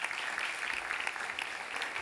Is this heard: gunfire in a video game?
no